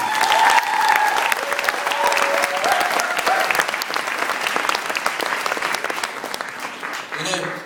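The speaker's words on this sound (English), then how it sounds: "Please give them one round of applause." A student festival audience at a Hindu Dharma event claps for the winners, with a dense, sustained burst of applause that fades toward the end, a voice briefly heard over it.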